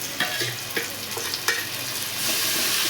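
Onions with tomato frying in a pan for egg curry, a steady hiss broken by a few sharp stirring scrapes and clinks, close by and fairly loud, growing into a fuller sizzle near the end with no talking.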